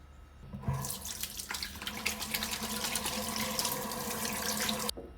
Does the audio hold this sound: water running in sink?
yes